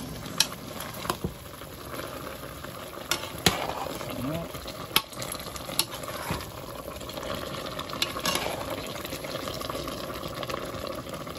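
Chicken adobo being stirred in a pot, with soft wet sloshing and bubbling, occasional utensil clicks against the pot, steady and close over a constant low background hiss.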